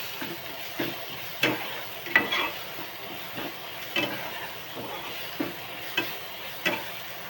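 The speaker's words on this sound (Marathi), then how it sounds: "चांगला भाजला आता कांदा टोमॅटो." Onion and tomato frying in a pan, a soft continuous sizzle under periodic scraping and tapping of a spoon stirring the mixture, close and fairly quiet, without talk.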